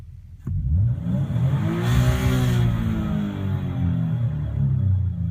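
A Nissan VQ40 V6 engine in street mode starts up abruptly and revs, its mid-pitched engine note rising and falling steadily over several seconds, close and loud with no talk.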